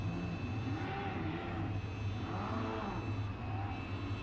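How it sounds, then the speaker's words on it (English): Formula Regional European Championship race cars at the Barcelona circuit roll into the pit lane after the race, a steady engine drone and hum that carries on at an even level throughout, with no talk. "Cars making their way into the pit lane"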